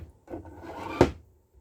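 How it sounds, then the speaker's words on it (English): A small 3D-printed plastic parts drawer in a slot-board storage wall slides with a short scrape and ends in one sharp knock, close and clear in a quiet room. "The biggest improvement I've made is these parts drawers."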